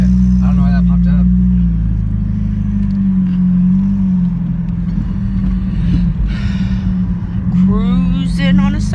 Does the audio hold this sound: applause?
no